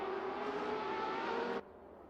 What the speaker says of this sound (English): I hear the downshifts.